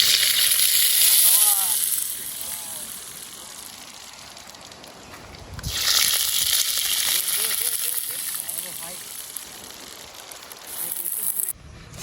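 Oil and a little ghee heat and sizzle in a pan while fried rice with desi chicken is cooked. A bright, close hiss swells at the start and again midway, with a person talking over it.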